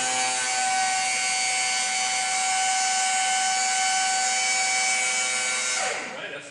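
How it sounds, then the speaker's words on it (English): A pump emptying a barrel of liquid runs with a steady, loud mechanical whine and hum for several seconds, then begins winding down and dropping in pitch near the end. "Take it out of the liquid, and we start up the pump."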